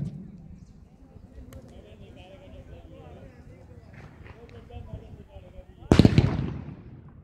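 A single loud firecracker bursts sharply near the end, following faint commentary and crowd murmur at an outdoor village cricket match during Diwali festivities.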